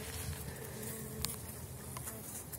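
Swedish Elgon honey bees hum at their hive, a quiet, continuous buzzing with faint flickers of individual wings passing close, steady throughout with no voices.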